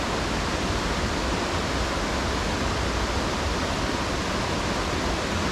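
Kuthumkal waterfall in Idukki, running with a reduced flow, gives a steady, dense rush of falling water that holds at an even level throughout, with no voices.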